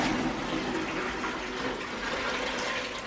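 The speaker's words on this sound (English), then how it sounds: "we pour this water, so the bleached water" Sooty bleach water poured into a flower vase, a steady close splashing gush of liquid filling the vessel, continuous and moderately loud for about three seconds with no speech.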